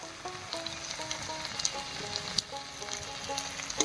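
Ground chilli, cumin, coriander and turmeric powders sizzle in a hot pan for a potol chingri curry, a steady faint crackle over low heat with light clinks, no voices.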